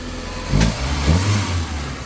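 A Maruti Gypsy engine is turned over on its self-starter and catches. It gives a quick, short rev before settling into a rough mid-pitched run, heard up close.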